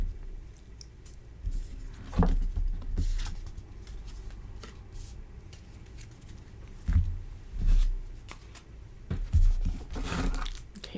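Cards from an alchemy deck being shuffled and drawn by hand: several short papery riffles and slides in separate bursts, with quiet rustling and handling noise between them.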